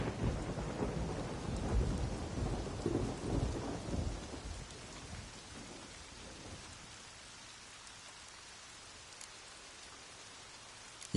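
Thunderstorm in The Witcher 3 video game, with heavy rain pouring and rolling thunder loud over the first few seconds, then easing to a softer, steady rain.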